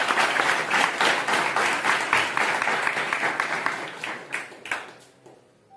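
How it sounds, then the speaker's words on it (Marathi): An audience claps steadily to welcome a performer onto the stage at a pakhawaj event, the dense applause continuing loudly for about five seconds and then thinning out into scattered claps that soon stop. "कृपया टाळ्या वाजवून यांचे स्वागत करा"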